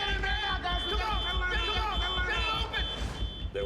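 A prison fire alarm rings with a continuous high electronic tone under overlapping shouting voices and commotion, steady for several seconds.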